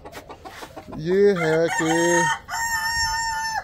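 Desi chickens penned on a home farm call out close and loud, with a drawn-out, crowing-like cry and clucks following a few brief spoken words.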